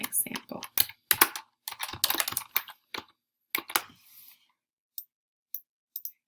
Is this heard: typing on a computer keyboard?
yes